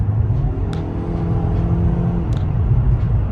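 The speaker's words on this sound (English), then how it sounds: "let's give it a little acceleration test" A 2020 Nissan Altima SR engine held at a steady rev during an acceleration test, a loud continuous low rumble with a faint hum on top and two brief high clicks.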